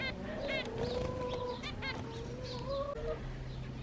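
Busy chirping and twittering of several finches in an aviary, overlapping and continuous, close by with a steady low background hum.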